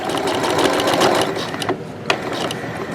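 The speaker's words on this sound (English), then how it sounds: "let's sew this down right to where the first snip is" Sewing machine stitching fabric piping with a piping foot, a close, loud rapid mechanical whirr with rattling needle clatter, briefly pausing and restarting.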